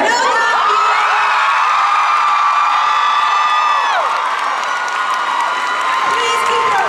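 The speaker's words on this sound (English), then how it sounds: "Please keep your applause going" A Comic-Con panel crowd for Once Upon a Time cheers and applauds loudly and continuously, with shrill sustained screams and whoops riding over the clapping, while a voice is heard through it.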